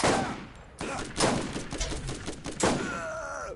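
Gunfire at barrels in the Borderlands game, several loud close shots and blasts in quick succession with crackling debris and ringing tails between them.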